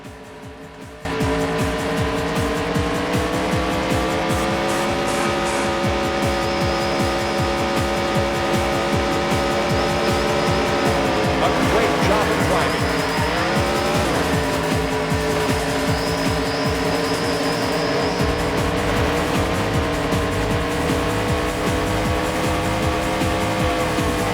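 Race car engines drone loudly and without a break in the PS1 game Andretti Racing, with the pitch sliding up and down through gear changes and tires squealing through a corner.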